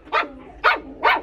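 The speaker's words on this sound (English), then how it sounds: "Whoa, what you barking at," A dog, apparently a new young family pet, gives three sharp, evenly spaced barks, loud and close, with quiet room background between them.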